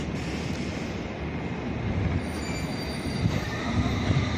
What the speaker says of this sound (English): the Ealing Broadway train is leaving